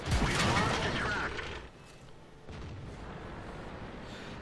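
An artillery shell slams into a Type 4 Chi-To tank in World of Tanks with a loud booming impact that rumbles and fades, followed by a steady mechanical hum of the engine.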